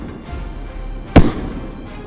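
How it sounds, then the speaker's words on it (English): A single sharp gunshot-like crack stands out alone against a low rumbling background, as a sound effect during a wild boar hunt in the field. "a furious round of gunfire erupted, relentlessly pursuing each one"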